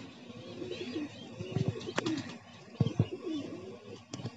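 Pigeons cooing on a hot rooftop as one flies in, soft repeated coos with a few sharper calls and wing-flutter bursts, fairly close and alone without talk.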